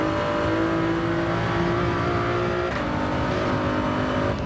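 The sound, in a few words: race car engine at full throttle, from video game Gran Turismo 7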